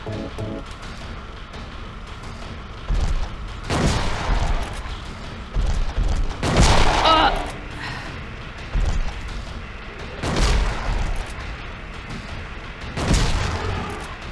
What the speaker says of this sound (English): Let me get out that fucking shotgun.